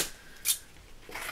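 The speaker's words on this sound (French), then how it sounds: "Un petit ciseau." Small scissors snip through a piece of black paper during card making, giving two or three short crisp cuts close up in a quiet room.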